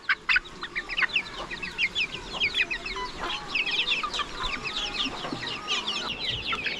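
A flock of domestic chickens clucks busily nearby in a steady overlapping chatter of short, bright calls, with a few sharper squawks rising above the murmur and no human talk.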